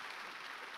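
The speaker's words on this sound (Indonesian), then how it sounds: "boleh tepuk tangan lagi dah gak apa-apa" Church audience applauding, a dense, even patter of many hands clapping together, fairly soft and distant, steady throughout the brief moment with no voices on top.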